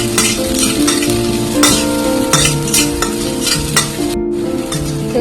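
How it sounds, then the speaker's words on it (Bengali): Chopped onion fries in hot mustard oil, a steady loud sizzle with intermittent stirring scrapes and a brief clack of a utensil against the pan, no voices. "তেল গরম হওয়ার পর আমি দিয়ে দিচ্ছি কেটে রাখা পেঁয়াজ।"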